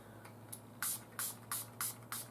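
Hydrating face mist sprayed in quick pumps during a makeup routine: five crisp, hissy bursts close to the mic at a steady rhythm, preceded by a fainter one, with quiet room tone between.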